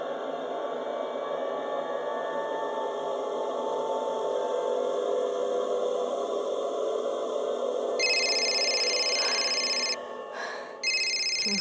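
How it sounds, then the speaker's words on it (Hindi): A bright mobile phone ringtone plays in repeated tonal bursts near the end, over a steady humming musical backdrop. "Please change your stupid ringtone. मेरा फोन, मेरी रिंगटोन।"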